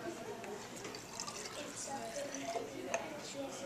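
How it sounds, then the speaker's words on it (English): Juice trickles and splashes as it is poured into a cup, close by, with a voice talking over it. "Now how about if I pour this one into this cup?"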